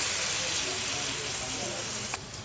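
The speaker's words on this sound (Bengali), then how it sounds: "এর মধ্যে সামান্য পরিমাণে পানি দিয়ে দিলাম" Water poured into a hot pan of onion and garlic paste gives a steady, loud steamy hiss that fills the whole stretch, with a brief clatter near the end.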